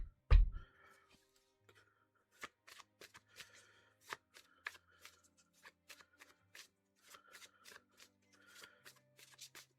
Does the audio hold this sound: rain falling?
no